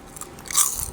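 Biting into crunchy small fried sapsap fish, a single close crisp crunch rising to a sharp burst in the middle of a short quiet moment.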